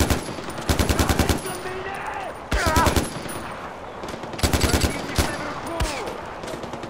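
Automatic gunfire in the video game Far Cry 4, several loud rapid bursts of machine-gun shots separated by short pauses, with someone talking between volleys.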